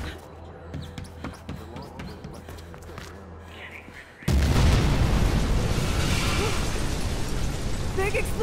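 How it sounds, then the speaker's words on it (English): An explosion in the video game Mirror's Edge Catalyst hits suddenly midway through, a loud wideband blast that cuts off quieter game sounds and holds as a dense roar to the end. "Explosion over here!"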